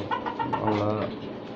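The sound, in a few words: native (deshi) chickens in a cage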